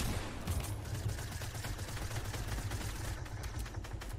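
Continuous spray of automatic gunfire in Fortnite, dense rapid shots running the whole stretch at a steady, fairly loud level with no talking.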